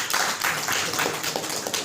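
A group at a de-addiction centre in Kanpur claps together, producing a fairly close, steady patter of hand claps with a light tapping texture that runs the whole time.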